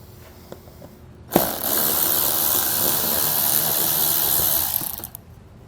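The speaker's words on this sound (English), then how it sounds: "We're going to remove the 7mm bolts that are holding the front of the fascia on here." Ratchet wrench spinning out 7mm bolts on the front fascia of a 2022 Chevrolet Equinox, a steady close mechanical whir lasting several seconds after a sharp start.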